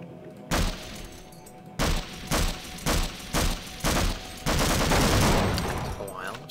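Gunfire in the video game Half-Life: loud, close bursts of rapid shots repeated in short evenly spaced volleys, then a longer sustained burst that tapers off.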